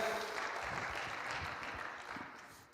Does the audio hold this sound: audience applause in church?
yes